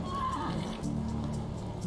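A horse in the medieval survival game Medieval Dynasty gives a short whinny early on, followed by soft rain-like patter and a low steady hum.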